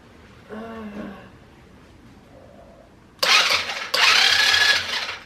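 A voice speaks briefly, then a 110/125cc quad bike engine, flooded with WD-40, cranks and roars to life twice in quick succession, running loud and close.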